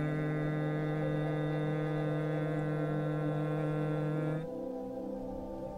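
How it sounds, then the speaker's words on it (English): Someone hums a sustained, steady low tone during a breathing exercise, ears closed with the index fingers. The hum holds level for about four seconds, then cuts off and leaves quiet room tone. "That's humming."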